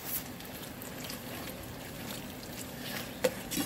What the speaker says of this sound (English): Adding more water. Y'all hear my water?